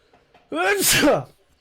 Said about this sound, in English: I've got to sneeze real quick.